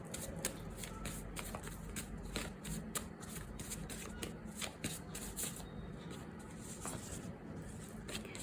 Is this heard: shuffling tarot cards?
yes